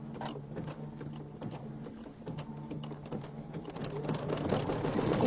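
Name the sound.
sewing machine stitching fabric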